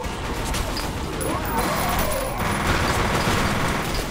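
A grenade blast and a fusillade of gunfire come from a firefight in the video game F.E.A.R. Perseus Mandate, with dense, continuous shooting and crashing effects and a player talking over the action.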